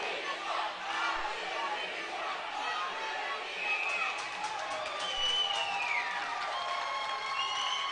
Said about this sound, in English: It's the I Believe chant.